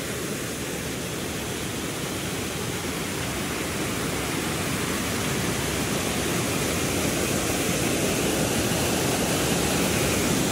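A small waterfall on a hiking trail in Manchester, Tennessee pours in a steady, loud, close rush of water that continues without a break and without any voices.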